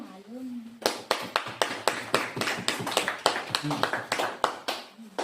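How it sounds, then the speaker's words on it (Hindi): A church congregation claps hands in a steady, even rhythm, loud and close, with a voice briefly heard at the start and in the middle. "ताली बजाइए"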